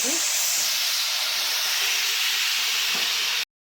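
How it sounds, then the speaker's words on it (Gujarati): Sour buttermilk poured into a hot pan of mixed spices for a tempered millet flatbread dish, giving a loud, continuous close sizzle and hiss that runs steadily and then cuts off abruptly. "હવે આપણે જે ખાટી છાશ લીધી છે તે અંદર રેડ દઈશું।"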